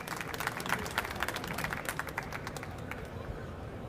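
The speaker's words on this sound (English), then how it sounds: "Can everybody give me a round of applause for my Vanna White here, handing out the prizes?" Applause from the audience at a hacker conference quiz session rings out in a dense burst of clapping under crowd chatter, holding steady and then thinning toward the end.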